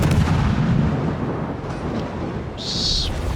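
Battleship main guns firing in the naval combat game World of Warships, a dense sustained boom and rumble filling the whole stretch with a bright whistling burst near the end, no voices heard.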